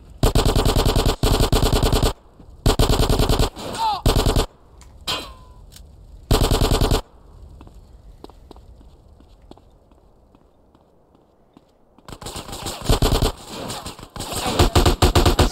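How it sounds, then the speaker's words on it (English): AK rifle gunfire in GTA San Andreas: loud sustained automatic bursts repeat several times with short gaps, fall into a quieter stretch of faint game sounds, then return as rapid fire near the end. "Use the AK here."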